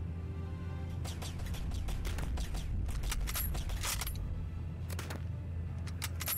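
Rapid gunfire bursts from alien attackers in a video game, sharp cracks volleying repeatedly over a constant low rumble, loud and dense for several seconds without talk.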